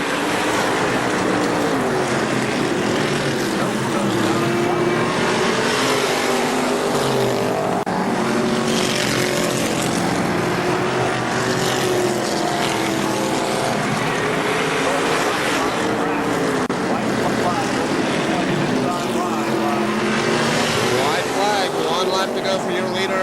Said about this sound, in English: Trying to find a way around the 31 of Don Fleming Jr